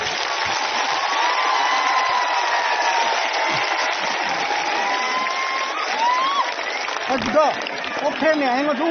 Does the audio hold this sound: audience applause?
yes